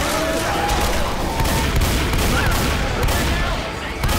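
Dense, continuous gunfire from a zombie video game as a player shoots at a tank, a steady barrage of shots and booms filling the whole stretch at close range.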